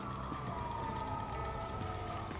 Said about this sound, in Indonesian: sirene polisi yang mulai terdengar mendekat